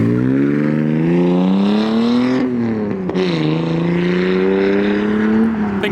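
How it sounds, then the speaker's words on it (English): A Cadillac CTS-V coupe rolls into a car meet, its engine a loud, close, steady burbling drone that swells and dips slightly as the throttle shifts. "Get the CTSV coupe rolling in."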